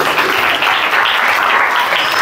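Dense, steady applause from an audience at a memorial competition event, loud and continuous for a couple of seconds with no voices over it.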